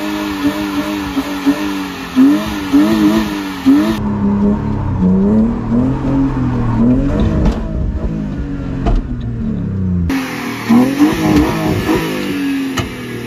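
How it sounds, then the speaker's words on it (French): A BMW E30 330i roars through a loud burnout with line lock holding the brakes, engine revving in rising and falling surges, wheelspin and whine building through the middle before the revs climb hard again at the end. "Premier burn avec la E30"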